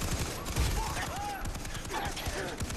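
Video game gunfire in Far Cry 3 co-op play: a dense, fast rattle of shots under a busy game mix, with a voice speaking over it.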